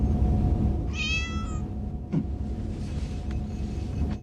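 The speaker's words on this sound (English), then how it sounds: "She meowed and he started playing" Spot the cat in a Star Trek episode gives one clear, close meow, followed by quieter thumps and room rumble.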